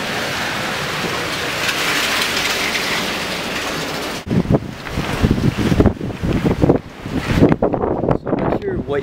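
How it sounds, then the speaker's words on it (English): Strong wind blows outdoors in Los Angeles, first as a steady roar, then in loud, buffeting gusts that batter the microphone, with a voice speaking partway through. "it is super windy"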